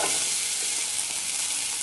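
Chopped onions fry in hot oil in a pan with a loud, continuous, close sizzle and no talking.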